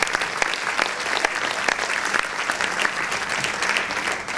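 Applause for Ludovic Farou at the Miss Lorraine 2011 pageant election, a dense, even round of clapping from a large audience, close and lively throughout, with no speech.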